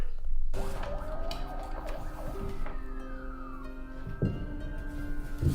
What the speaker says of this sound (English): That police siren is unintended.